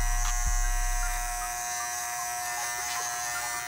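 Close electric hair trimmer, set zero-gapped, buzzing steadily as it shaves hair, with a brief contact thump near the start and the hum continuing alone throughout.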